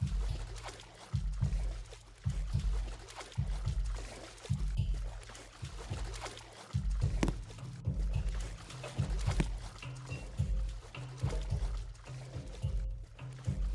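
Flowing water in the Roblox game Plane Crazy gives a continuous, faint rushing wash over a steady, rhythmic low pulsing, with no voices.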